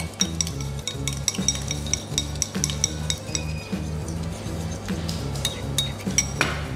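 Spoon stirring egg yolk in a large bowl for a Gateaux Africano cake, rapid repeated clinks and scrapes against the bowl over a steady low background hum.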